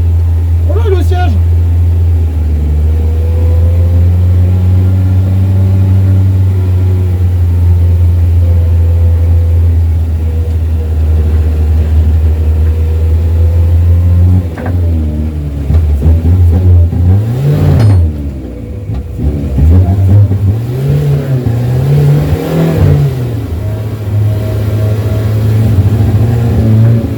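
A small engine being set up for a turbo revs and surges near the microphone, a steady low drone rising into uneven bursts of revving before easing back, with no talk over it.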